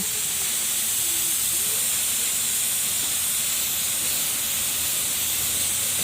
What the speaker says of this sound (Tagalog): Spray na natin ulit ng base coat